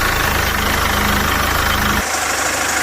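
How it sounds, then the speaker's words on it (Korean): A 2013 SsangYong Korando C with about 160,000 km idles with the bonnet open, a steady close engine hum with a fine rapid pulse that drops away abruptly near the end. "지금 본넷을 열고 시동을 킨 상태입니다"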